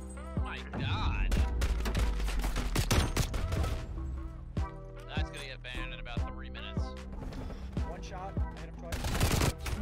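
Rapid bursts of automatic gunfire in the Call of Duty: Black Ops Cold War multiplayer game crack in dense clusters, sometimes steady and sometimes broken, with loud close shots throughout and a final heavy flurry at the end.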